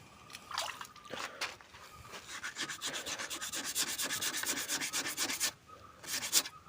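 Car body filler is sanded by hand with 220 grit sandpaper: close, rhythmic rasping strokes that start sparse, build into a fast, even run of scrubs, pause, then return in a short burst.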